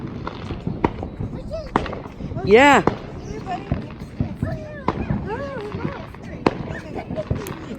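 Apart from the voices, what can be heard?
Fourth of July fireworks exploding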